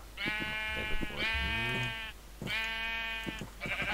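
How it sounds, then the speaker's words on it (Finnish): Sheep in Minecraft bleating four times in a row, each a loud, drawn-out nasal cry with brief pauses between calls, alone without speech. "Sinä olet minun lammas."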